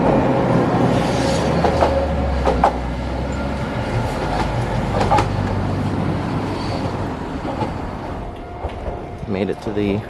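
A train pulls into Butano station on an Osaka rail line, its steady low rumble and rolling clatter continuing throughout, with brief squeals and clicks near the end as it slows.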